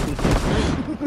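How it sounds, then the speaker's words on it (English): A shotgun fires in a video game, giving a brief, loud burst of blasts that lasts about a second. "What a broken shotgun."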